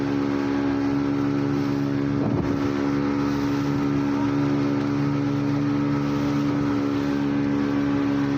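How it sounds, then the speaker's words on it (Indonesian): Small boat motoring over rough, heavy waves on the way to Samalona Island off Makassar, with a steady, droning engine, wind buffeting the microphone and a dull thump about a third of the way in. "Perahu kami serasa hampir kebalik oleh ombak yang dahsyat banget."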